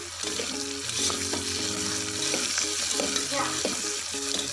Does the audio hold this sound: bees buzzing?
no